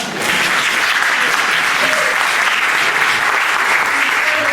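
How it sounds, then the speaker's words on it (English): A church congregation gives a sustained, even round of applause for the thrift shop volunteers, dense clapping filling the room for several seconds. "Let's have a round of applause for everyone"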